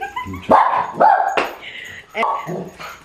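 A dog barks and whimpers close by in a string of yips and whiny cries, with a person talking in the background at the same time.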